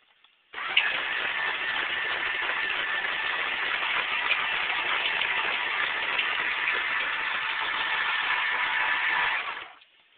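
Motor of a small robot tank whirring steadily as its tracks run, a continuous near hum holding at one level for about nine seconds before cutting off, with no talking.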